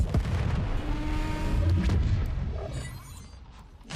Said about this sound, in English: Airstrikes incoming.